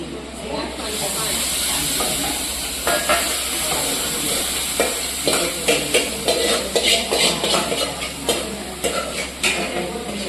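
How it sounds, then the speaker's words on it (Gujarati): Spices for dal tempering sizzle and hiss in hot oil while a spoon stirs with repeated scraping strokes, steady and close, with a low hum underneath. "હવે વરનાનું વઘાર"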